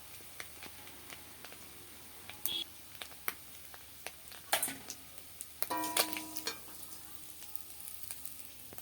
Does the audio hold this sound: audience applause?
no